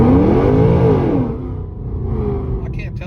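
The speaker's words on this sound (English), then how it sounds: "So we're going to try from a complete stop, see if it holds." A Whipple-supercharged car pulls away from a complete stop, engine note rising then fading as it moves off, loud at first and then quieter with a faint rumble, while a person talks over it.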